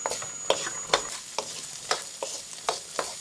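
Chinese sausage, sausages and carrots being stir-fried in a pan, with a close, steady sizzle and rhythmic scraping strokes of a spatula roughly every half second, no talking.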